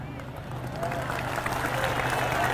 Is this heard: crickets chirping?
no